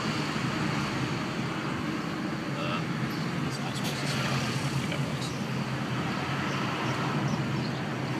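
A car driving on Italian roads, with a continuous low road rumble and engine hum under steady tire noise throughout, mid-level and without clear changes.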